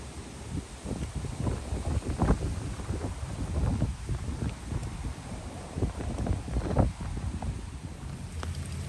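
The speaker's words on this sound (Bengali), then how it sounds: "বাতাসের গতিও বাড়ছে।" Strong gusting wind outdoors in a small-town neighborhood during a tornado warning as light rain begins, a steady roar buffeting the microphone with repeated louder surges, no voices heard.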